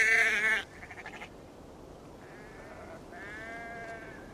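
Sheep in Assassin's Creed Valhalla bleat in a few short, clear calls separated by quiet gaps, fairly close, with no talking.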